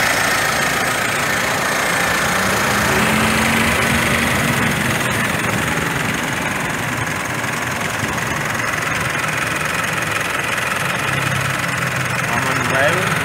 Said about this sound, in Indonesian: Ini mesinnya lagi jalan.